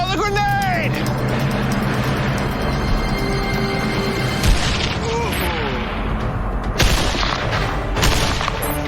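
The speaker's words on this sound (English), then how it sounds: "On 3, 2, 1, throw the grenade!" A hand grenade is thrown at a building during a weapons test; heavy booming blasts punch through steady noise as people talk loudly over it.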